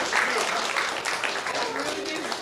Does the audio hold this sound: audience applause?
yes